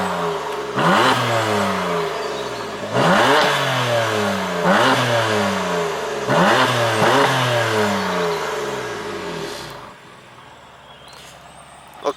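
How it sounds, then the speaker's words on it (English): A BMW M4 F82 in sports mode revs hard four times in a row, each blip climbing sharply and falling away, loud and close, before settling to a quieter idle with a small click at the end. "Go on then, give it a rev."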